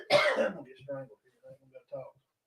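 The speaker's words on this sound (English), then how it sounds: "I get hot, I start coughing." A man coughs and clears his throat in a short burst, one harsh cough followed by several smaller throaty hacks spaced apart, close and fairly quiet.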